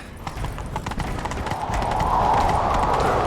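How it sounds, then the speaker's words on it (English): Rapid clip-clop of a horse galloping in the video game The Witcher 3, on the Skellige Islands, drives on steadily, growing louder with a rising rush of wind or movement noise. "Grab a horse, we'll chase him down."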